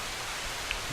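Steady rain falls in the survival game Project Zomboid, as a dense even hiss with soft low rumbling underneath over a brief stretch, without any voices.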